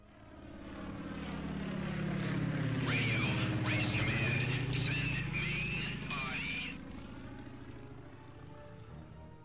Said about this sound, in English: We are being attacked by Allied aircraft near America.